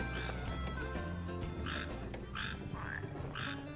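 Frogs croak in short, bright bursts at an irregular pace in Final Fantasy XV, layered over a soft musical and ambient background with no talk.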